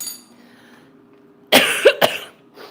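A person coughs from a throat tickle: two quick, harsh coughs close to the microphone, followed by a softer exhale, after a quiet stretch with a low steady hum.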